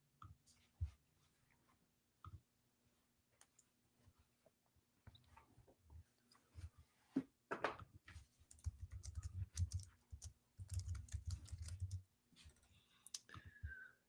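Someone types fast on a computer keyboard, with soft scattered clicks that build into dense bursts of keystrokes, faint and close in a quiet room.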